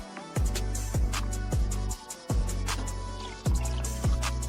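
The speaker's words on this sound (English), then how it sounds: "Looks like I poured way too much here." Construction primer poured generously onto van parts, a series of close, heavy liquid plops and drips landing at an uneven rhythm over a continuous wet pouring background.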